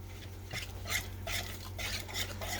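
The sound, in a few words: stirring coffee powder and vanilla extract into brownie batter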